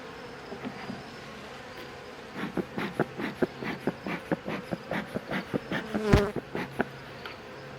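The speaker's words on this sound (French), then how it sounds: "Très gourmande ces abeilles-là." Honeybees buzz close by in a dense drone, swelling in quick pulsing bursts, with no voices.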